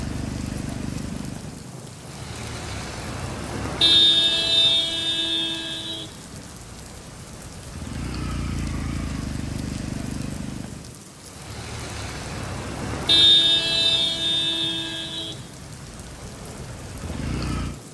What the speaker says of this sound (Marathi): रायगडमध्ये जोरदार पाऊस बरसतोय